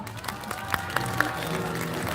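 A crowd at a youth political rally demanding President Moon Jae-in's resignation claps steadily. The applause is moderately loud and sustained, with a voice speaking over it.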